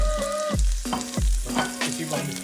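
Ginger fries in a pan for dal fry with a loud, close, steady sizzle. Several scraping and stirring knocks break into it in a loose rhythm.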